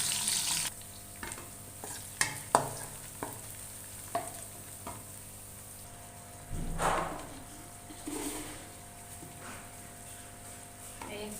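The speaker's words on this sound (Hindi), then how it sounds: "घी गर्म हो चुका है, इसके अंदर प्याज हम ऐड करेंगे। प्याज को हमने फ्राई करना है" Onions fry in hot ghee in a kadai, a close steady sizzle broken by repeated clinks and scrapes of a stirring spoon, with a louder burst of crackling midway and no speech.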